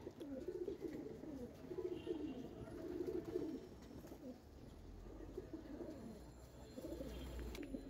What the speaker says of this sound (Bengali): এলো কবুতর